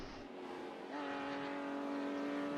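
Race cars lapping Donington in a sim racing game, including a Porsche and a De Tomaso, with a steady engine drone that rises into a sustained higher whine, fairly quiet and continuous.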